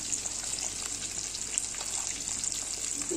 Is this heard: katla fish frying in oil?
yes